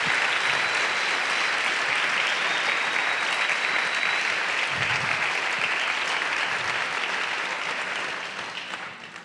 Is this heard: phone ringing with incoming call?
no